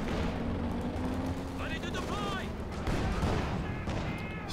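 Shell fire and impacts in a Company of Heroes 2 match sound as dull booms and rumbling bursts amid battle noise, with a commentator talking over them.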